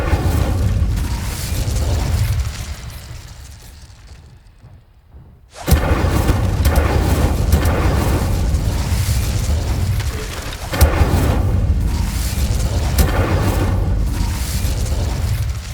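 Fire spells cast in the Hogwarts Legacy video game boom and crackle loudly, like bursts of flame. Roaring blasts come in waves with a short quiet gap between them, and no one talks.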